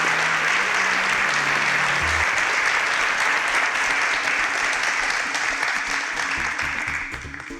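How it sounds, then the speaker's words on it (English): Audience applause fills the room at a Nigerian tech talent competition elimination, a dense steady round of clapping that holds loud throughout and tapers slightly at the end. "Round of applause for"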